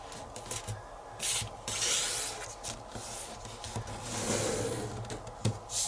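Paper is creased and rubbed while folding an airplane, giving close, soft scraping and brushing strokes in irregular bursts.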